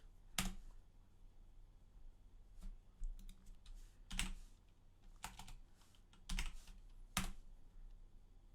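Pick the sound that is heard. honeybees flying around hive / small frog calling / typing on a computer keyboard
typing on a computer keyboard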